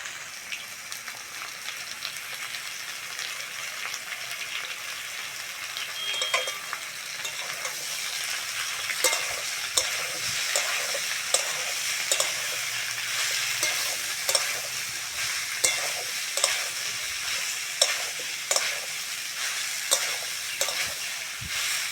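Salted young banana stem frying in a pan with lightly fried vegetables, a soft sizzle at first and then a regular series of scraping and tapping strokes as a spatula stirs it.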